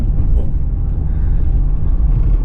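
A car engine rumbles low and steady from inside the cabin on a cold day at a roadside service station, a continuous close drone with no voices.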